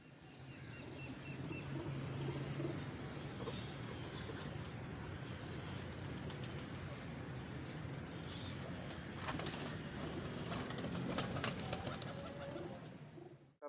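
Teddy king pigeons coo and rustle in a loft in Lahore, soft low coos repeating beneath a steady background hum, with occasional wing flaps and faint traffic.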